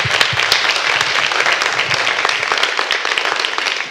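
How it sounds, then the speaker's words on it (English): A crowd at a community gathering gives a round of applause. The clapping is loud and busy, with sharp individual claps standing out from the wash of hands, and it carries on for several seconds without talk. "let's give Mr. Hunt a round of applause for coordinating this"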